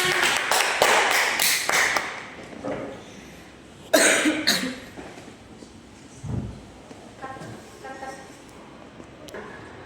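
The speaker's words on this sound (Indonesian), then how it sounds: "tepuk tangan" Scattered applause from primary-school children in a classroom after a group presentation, a few short bursts of close clapping and taps, followed by quieter coughs and murmuring.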